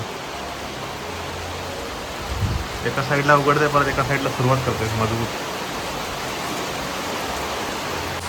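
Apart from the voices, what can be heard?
heavy rain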